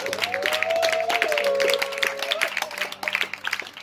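A congregation applauds and cheers at a worship gathering: a steady, close clatter of many hands clapping, with a sustained musical tone running underneath and the clapping thinning out toward the end.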